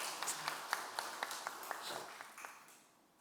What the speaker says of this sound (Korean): 우리 격려의 박수 드리겠습니다.